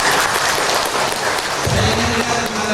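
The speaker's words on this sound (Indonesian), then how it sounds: "Tepuk tangan." Applause from an audience at a swearing-in ceremony for regional officials in Lampung, Indonesia: a dense, steady wash of clapping hands that fills the whole moment with no voices standing out.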